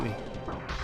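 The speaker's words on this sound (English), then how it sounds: "I had to sneeze." A single short, forceful sneeze bursts out close to the microphone, lasting under a second.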